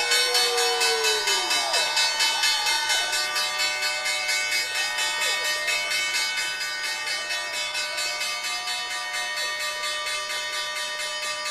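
The closing bell rings on the trading floor of the New York Stock Exchange, a loud, rapid continuous clanging that persists for the whole stretch, with faint swooping whistles early on.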